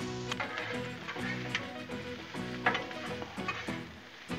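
Vegetables and sausage fry on a Blackstone griddle with a steady, moderate sizzle. Irregular scraping and tapping of a spatula sounds through it, close by.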